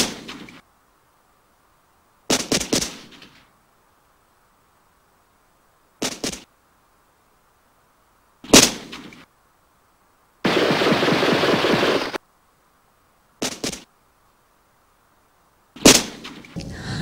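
Gunshots at an outdoor shooting range, single sharp reports spaced a couple of seconds apart plus one longer rapid burst of automatic fire, loud against near silence.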